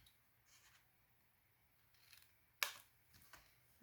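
Scissors cutting paper for a Christmas paper ornament craft, a few soft quiet snips with one sharper close cut, otherwise near silence.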